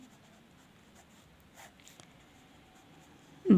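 Pen scratching across paper during a Class 10 maths lesson, a soft steady scribbling texture that runs faintly under quiet room noise, ending in a brief louder bump.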